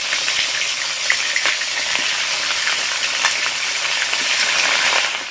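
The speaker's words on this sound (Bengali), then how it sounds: "এবার এই তেলের মধ্যে আমি চিকেনটাকে ভেজে নেব" Unmarinated chicken fries in hot oil, giving a loud, continuous, close sizzle with occasional crackling pops and stirring noises throughout.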